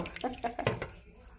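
Cold water is poured over freshly cooked sago pearls in a kitchen sink, giving a brief, close splashing run of water.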